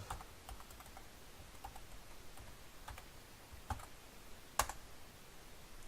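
Quiet, irregular keystrokes on a computer keyboard as a password is entered at a Windows 10 sign-in, light clicks scattered across a few seconds with a couple of sharper taps near the end.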